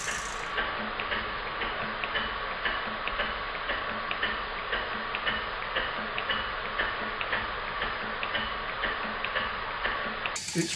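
Clock mechanism ticking in slow motion in a workshop, producing crisp, evenly spaced beats that repeat steadily and close up, with no talk.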